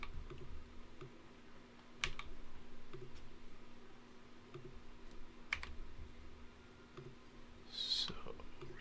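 Keystrokes on a computer keyboard while cutting and pasting to fix a cloud setup, scattered soft clicks with a few sharper taps, quiet against a steady hum.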